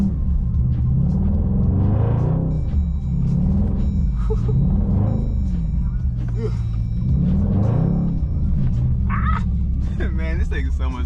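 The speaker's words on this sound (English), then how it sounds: "Hold on, I'm about to bust this donut real quick." A Hemi-powered Dodge Durango with all-wheel drive spins donuts in a snowstorm, its engine a loud, steady low rumble that rises and falls in repeating sweeps, heard from inside the cabin.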